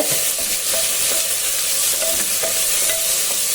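Sliced onion sautés over a low flame in a pan for an egg pappas curry, giving a steady close sizzle with soft stirring scrapes and taps throughout.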